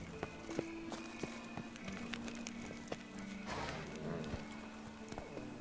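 Roach, a horse in The Witcher 3: Blood and Wine, gallops with a steady run of hoof clip-clops on the ground, fairly close, mixed with faint game ambience and scattered small clicks.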